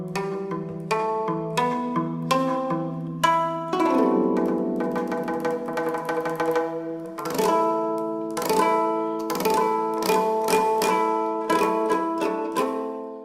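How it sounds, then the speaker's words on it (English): Egyptian music plays as a rhythmic instrumental passage of plucked, ringing notes with repeated sharp attacks and pulsing phrases, steady and clear throughout, with no voices. "Real Egyptian music sounds like this."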